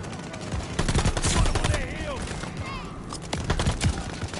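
Rapid gunfire from an MP-40 submachine gun in Call of Duty: Vanguard, dense crackling bursts running through most of the span, loud and close, with a voice talking over it.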